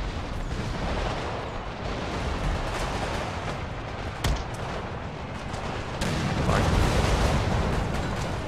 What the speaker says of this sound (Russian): Тут стрельба.